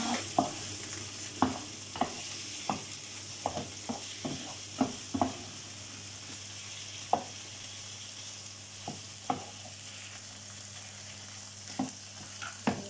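Shrimp frying in butter and garlic in a pan, a soft steady sizzle broken by a dozen or so sharp scraping clacks of a utensil stirring at an uneven pace, close and fairly quiet.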